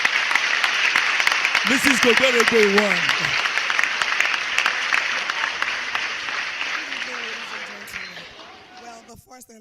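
Audience applause fills an awards ceremony for Yoruba movies in Dallas, a steady wash of clapping throughout while a host speaks over it briefly near the start, then slowly fading toward the end.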